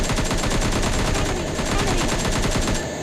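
Rapid automatic gunfire in the PUBG Lite battle royale game, a loud, dense burst of shots rattling continuously for about three seconds with no pause.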